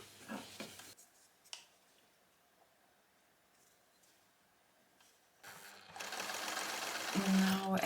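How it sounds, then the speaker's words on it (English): A sewing machine stitches the edge of a wrap top, its motor whirring steadily and loudly near the end after a mostly quiet stretch with a few faint handling bumps. "as I sew the edge on the right side, that is from the top"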